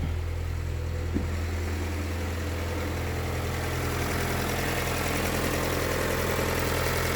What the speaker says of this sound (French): Le moteur il tourne.